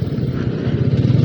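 A Honda Vario scooter runs close by on a mountain road, giving a steady buzzing motor drone at moderate loudness.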